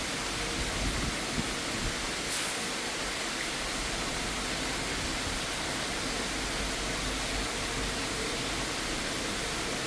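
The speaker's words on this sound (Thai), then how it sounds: "ได้ยินแต่เสียงน้ำตก" A waterfall pours in a steady, dense roar of rushing water that runs unbroken and evenly loud throughout, with no voices over it.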